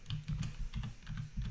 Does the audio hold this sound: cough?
no